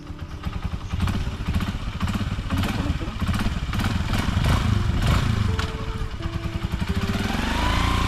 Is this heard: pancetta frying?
no